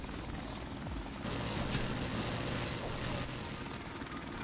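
Helicopter in the Modern Warfare Remastered video game: a steady, dense rotor and engine roar that fills the whole span without a break, loud and unbroken.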